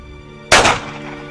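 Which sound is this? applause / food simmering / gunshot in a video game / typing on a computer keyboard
gunshot in a video game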